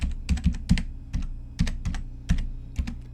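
Keys on a computer keyboard are pressed to type a password, about a dozen close, crisp taps in uneven bursts with short pauses and no talking.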